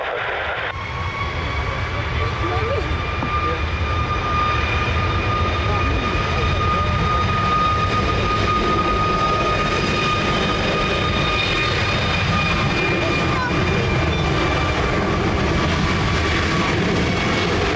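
A jet aircraft at Lisbon Airport spools up for takeoff on runway 20, a steady loud engine roar with sustained whining tones held throughout, no speech.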